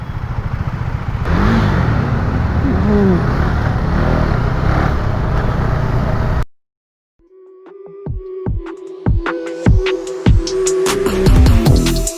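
A KTM Duke 390 motorcycle engine drones steadily under wind rush for about six seconds while riding, cuts to a brief silence, then gives way to irregular clicks, ticks and short mechanical knocks close by as it slows and brakes.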